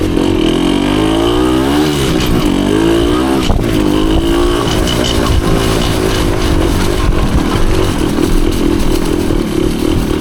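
A 1974 Honda MT250 two-stroke enduro motorcycle with a freshly rebuilt top end ridden through woods; loud, close engine with rising and falling revs, a brief throttle blip near the middle, and a constant raspy drone throughout.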